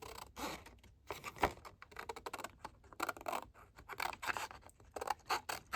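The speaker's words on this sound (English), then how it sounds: "Going to snip this. Yes. Snip this corner." Scissors snip a paper envelope in a run of close, crisp cuts, sharp papery crunches coming in quick uneven bursts with short pauses between, no voices heard.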